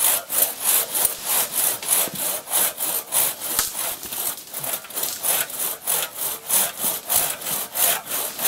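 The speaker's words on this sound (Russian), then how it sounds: "Это клен. Ровно пилу держите." Hand saw cutting through maple wood outdoors, a steady rhythmic rasp of back-and-forth strokes, about two per second, loud and close with no talking.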